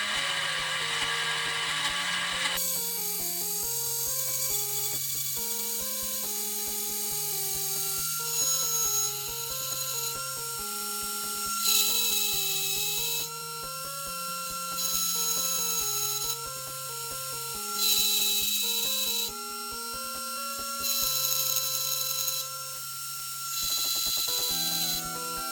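A 3 mm end mill spinning at 17,000 rpm on a milling machine cuts an aluminum PC case frame held at 45 degrees in a vise, a steady loud whine with shifting tones across repeated passes and no talking.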